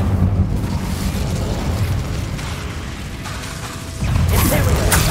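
Incendio fire spell cast in Hogwarts Legacy, a loud rushing, crackling burst of magical flame over continuous game noise, swelling again sharply near the end.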